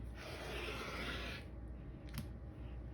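Quilt binding fabric strips being cut, with a smooth, sustained slicing rasp for about a second and a half, then quieter handling and a brief knock, close up in a quiet room.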